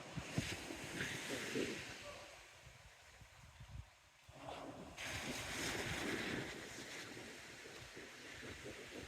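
Surf washes onto the beach at Shaldon in Devon on a sunny December day, a broad rushing wash that swells and fades, with gusts of wind buffeting the microphone throughout.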